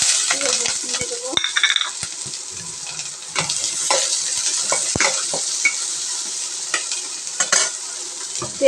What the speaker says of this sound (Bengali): তেল দেওয়ার পরে আমরা পেঁয়াজ রসুন দিয়ে পেঁয়াজ রসুনটাকে একটু ভেজে নেব।